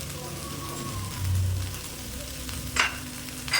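Cauliflower and potato fry in a pan with a soft, continuous crackling sizzle, joined briefly near the end by a spatula scraping as they are stirred, with no talk.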